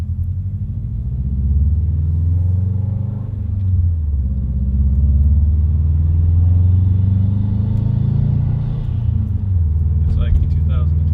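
A Subaru STI with an Invidia R400 exhaust and stock downpipe rumbles through a test drive, a loud low droning growl that swells and settles, with people talking over it.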